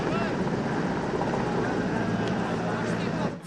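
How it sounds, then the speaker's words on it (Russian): Mi-8 firefighting helicopter working over a burning forest, a constant loud rotor and engine drone filling the whole stretch, with a voice faintly present beneath it. "Вертолет Ми-8 на пожарной службе с высоты может потушить и с одного раза, но не сегодня."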